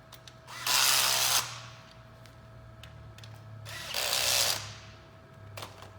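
A power tool drives bolts down while a V-Flex base is assembled, giving two loud whirring bursts about a second long each, separated by quieter clicks and handling noise, close by and with no talk.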